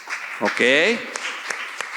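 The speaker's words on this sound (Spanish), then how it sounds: "Ok, un aplauso." Church congregation applauds during a pastor's sermon, a short burst of clapping under a brief spoken word and a drawn-out exclamation, fading within two seconds.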